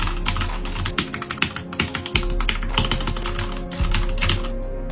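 Rapid typing on a hot-swappable 60% mechanical keyboard with red switches, a dense stream of close, crisp key clacks with occasional louder strokes, heard alone.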